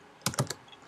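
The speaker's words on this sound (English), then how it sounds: "In the terminal, you type in telnet" A command is typed on a computer keyboard in a terminal, heard as a few quick, close, soft clicks in a short burst of three or four keystrokes against a quiet background.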